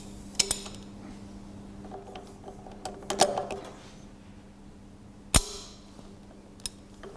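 A torque wrench tightens Citroën 2CV driveshaft nuts in a workshop, giving a few sharp metallic clicks and clanks spread apart over faint ratcheting and creaks, with no talk.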